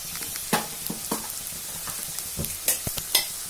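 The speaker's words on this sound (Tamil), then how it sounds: "நல்லா சின்ன வெங்காயம் நல்லா வதங்குற அளவுக்கு நல்லா வதக்குங்க" Shallots and curry leaves sautéing in a pan with a soft sizzle, punctuated by several sharp scrapes and knocks of a spoon stirring, close and without talk.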